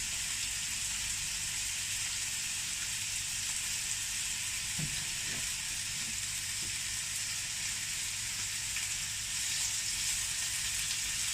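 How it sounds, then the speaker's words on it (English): Chicken pieces frying in a pan for sweet and sour chicken, giving a continuous close hiss and crackle of sizzling oil with a few faint clinks underneath. "They're sizzling away nicely."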